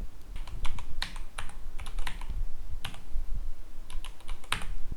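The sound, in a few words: typing IP address and domain name on a computer keyboard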